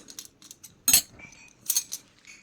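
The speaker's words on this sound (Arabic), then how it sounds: "اشتريت بقى تشكيلة معالق لوز" Metal spoons clink against each other in a few quick, bright bursts close by, with short pauses between and no talking.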